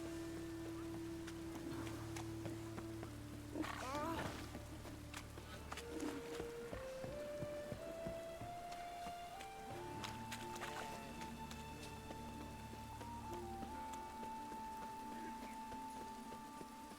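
Rain falls steadily in The Witcher 3 as a soft, continuous hiss, with footsteps crunching and splashing through it and a tonal game melody drifting faintly in the background.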